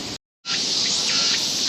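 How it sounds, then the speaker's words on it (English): Cicada buzzing in Seoul, a steady loud hissing drone close by that cuts out briefly, then resumes and holds without pause. "it's a cicada. It sounds like a fax machine."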